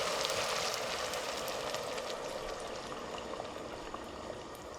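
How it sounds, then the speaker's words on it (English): Water pours steadily into a cooking pot to soak ingredients for a galangal dish, a continuous gentle rushing that fades slightly toward the end, with no talking. "So you need the water to soak all this stuff."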